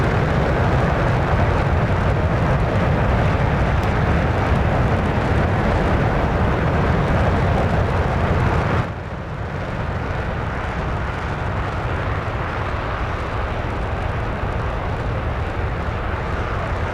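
An F-15 fighter jet climbing to high altitude in an aerial combat game produces a steady, loud roaring jet drone, continuous throughout and dipping slightly partway through.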